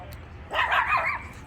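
A small dog gives a short burst of high yips and barks, close by, after a brief quiet moment.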